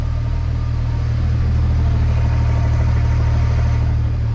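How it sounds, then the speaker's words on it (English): A BMW N54 engine with a swapped-in dual-clutch transmission runs steadily with the bonnet up and no under trays fitted, giving a constant low rumble with faint chatter throughout and no voices. "This is the first time I've heard that clutch chatter,"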